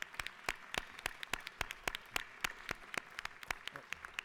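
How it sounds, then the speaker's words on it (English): Sparse applause in a state House chamber for visiting high school students: a scattering of distinct, separate claps at an uneven rhythm, moderately distant and fairly faint, with no voices over it. "Please stand up and give them a round of applause."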